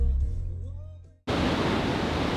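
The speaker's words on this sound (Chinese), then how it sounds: "下了车，眼前就是这种漫画形状的海浪。" Waves break at Hookipa Beach at sunrise. A short stretch of voice and low rumble cuts to a loud, continuous roar of surf.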